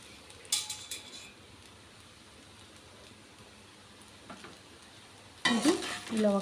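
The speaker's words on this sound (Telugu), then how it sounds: "అంతా కలిసేలాగా ఒకసారి గరిటెతో కలుపుకుందామండి" A ladle stirs chicken fried rice in a pan, giving a faint scrape near the start and a louder burst of sizzling and scraping near the end, with a quiet hiss between.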